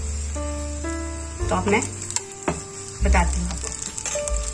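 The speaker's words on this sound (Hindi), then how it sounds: "कसूरी मेथी के जाते ही इतनी अच्छी सी खुशबू आती है, फ्राई होती है जब" Cumin, red chili and kasuri methi fry in hot oil in a pan for a Punjabi dal tadka, giving a steady close sizzle with bursts of stirring while someone speaks briefly over it.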